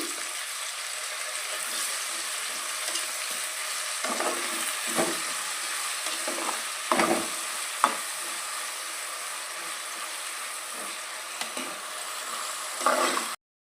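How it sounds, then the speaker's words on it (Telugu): Ivy gourd frying in a pan and stirred with turmeric, giving a continuous soft sizzle with occasional scraping stir strokes, close and steady, with no voices. "ఒకసారి కలుపుకుందాము"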